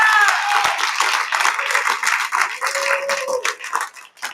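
A crowd at a real estate rally claps loudly and steadily, dense applause filling the whole stretch and tapering slightly at the end.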